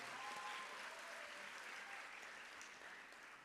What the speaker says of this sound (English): Another big round of applause to Samprithi and the wonderful artists.